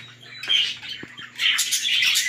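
Young parakeets in an aviary, from rainbow and Texas clearbody breeding lines, give harsh squawks and chirps in two clustered bursts with a short quieter gap between them, fairly close and loud.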